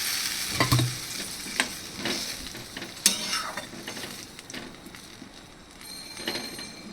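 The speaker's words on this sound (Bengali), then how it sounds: "এবার আমি এর মধ্যে দিয়ে দেবো জল" Water is poured into a pan of frying chicken and onion, setting off a hissing sizzle that rises and falls, with scattered scrapes and clinks of stirring against the pan.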